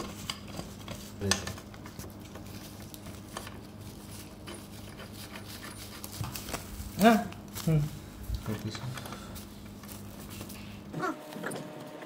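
Metal nuts clink and scrape as they are fitted onto a gaming chair during assembly, with a few sharp clicks around the middle, all beneath steady talking.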